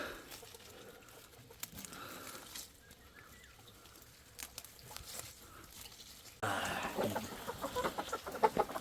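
Chickens cluck in a backyard coop, their calls faint and scattered over soft rustling. The sound grows somewhat busier and louder toward the end.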